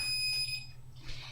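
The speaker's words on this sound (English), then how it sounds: "There's my timer." Kitchen timer beeping while tea brews, a steady high electronic tone repeating under a low background hum, moderately close.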